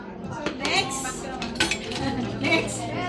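Ice cubes dropped into a glass while making a lychee strawberry mocktail give a series of bright clinks and clatters against the glass, with someone talking faintly in the background.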